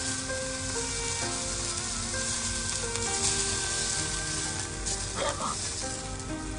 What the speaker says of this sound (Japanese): えのきの量が多かったからね、蓋をして蒸し焼きにした。